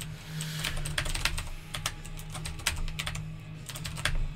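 Fast typing on a loud mechanical keyboard fitted with Cherry MX Blue switches, a rapid, uneven run of sharp clicky keystrokes close up over a low background hum.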